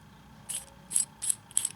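Threaded parts of a Zenesis 2 vape atomizer being screwed together produce four short, crisp metallic scrapes in quick succession. They are close and fairly quiet, and no one speaks.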